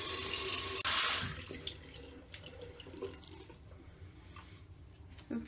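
Shower water runs while heating up, starting with a loud splashing rush that settles into a steadier, quieter flow with scattered drips and splashes.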